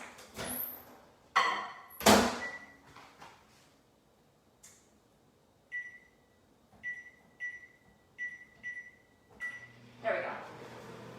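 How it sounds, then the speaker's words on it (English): A microwave oven timer beeps in a series of short, sharp electronic tones, one after another at a steady pace in a kitchen during a plant-based cooking class, with a few clicks and thumps of handling before and after. "Kind of battling with the microwave timer."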